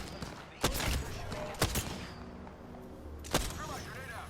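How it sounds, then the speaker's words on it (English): Video game gunfire, three sharp shots spaced about a second apart, loud and close over a busy background of game noise, with someone talking. "Getting shot at."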